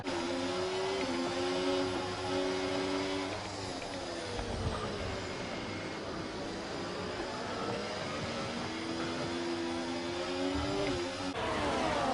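A pack of F1 race cars in a racing video game at the Brazilian Grand Prix roars down the back straight, engines whining continuously and loudly with rising and falling pitch.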